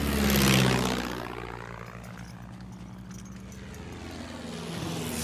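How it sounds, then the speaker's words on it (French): A propeller rescue airplane in a 1914–1918 wartime setting drones overhead, a steady throbbing engine hum that swells loud early, then holds at a lower, sustained level as it passes. "C'est un avion de sauvegarde!"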